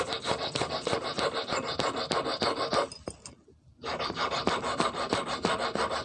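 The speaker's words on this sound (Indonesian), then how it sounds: "Kalau kuningan agak gimana ya, agak lengket, jadi susah kena menggunakan kikir, agak lumayan lama ya." A hand file rasps against a brass workpiece while an eel fishing hook is shaped. The strokes are steady, loud and close, each scrape rhythmic, with a short pause partway before the filing resumes.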